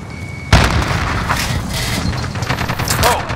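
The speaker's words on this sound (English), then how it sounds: "Throw a grenade!" A grenade explodes in a multiplayer shooter video game during a hard-point match, a sudden loud boom followed by continuous gunfire and battle noise, with faint voices underneath.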